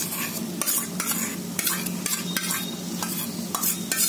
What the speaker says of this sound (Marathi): बटाटे घालते